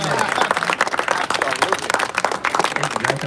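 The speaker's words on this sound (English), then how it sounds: "please give me a wonderful applause, guys" A tour group claps for its tour guide, a dense burst of hand clapping from a small crowd close by, with voices talking over it.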